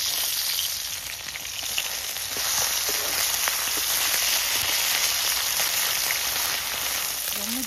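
Freshwater parse fish frying in a pan with a steady, dense sizzle that runs continuously through the whole stretch, close and fairly loud, with a few faint clicks over the hiss and no talking.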